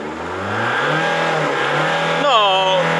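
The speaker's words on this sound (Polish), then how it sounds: "Proszę, dodam gazu, żeby pokazać, że nie kopci." Revving of a twenty-year-old VW Golf 4 diesel engine, a steady close idle drone that swells into a short throttle blip near the end, with a voice talking over it.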